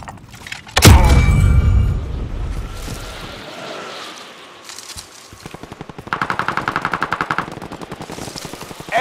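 Video game gunfire erupts in a loud burst, then a lull, followed by a rapid, evenly spaced automatic volley near the end, with no talk over it.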